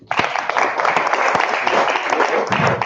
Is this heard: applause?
yes